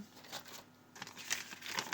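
Close-up crinkling and rustling of paper surprise packets being handled, in short irregular bursts with a brief quiet moment in between.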